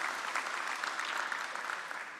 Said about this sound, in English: a round of applause to you all for being a wonderful audience